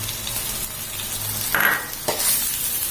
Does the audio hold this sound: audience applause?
no